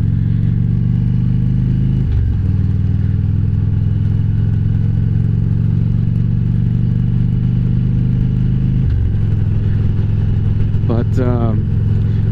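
A motorcycle cruising at about 45-50 mph on country roads, fitted with a windshield: a loud, steady engine drone with rushing wind throughout, and a voice speaking briefly over it.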